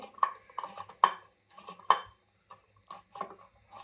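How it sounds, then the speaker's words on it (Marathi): Thin slicing of three bitter gourds with a knife on a board, a series of sharp, close chopping clicks at an irregular rhythm, several crisp strikes and softer cuts with short quiet gaps between. "आता ही तिन्ही कारली ना मी अशी मस्त पातळ पातळ कापून घेते"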